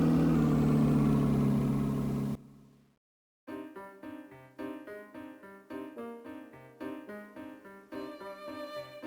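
Loud engine drone cuts to brief silence, then a bright, bouncy instrumental theme from Professor Layton and the Curious Village begins with plucked, rhythmic notes and layered melody.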